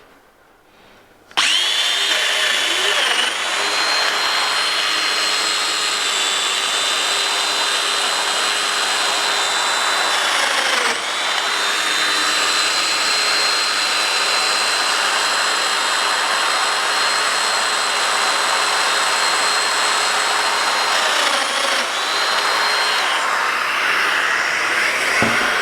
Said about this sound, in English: you can make your cuts on the domino